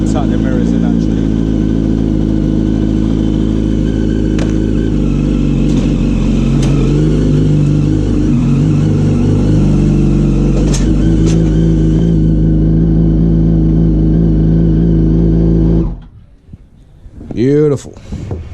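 Motorcycle engine, an R1, idling and pulling away with the clutch eased in, a loud steady close drone that cuts off near the end, with brief talk over it.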